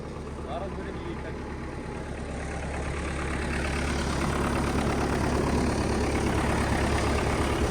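An MTZ-80 tractor engine runs close by with a steady low rumble that swells slightly louder partway through, while a person talks over it.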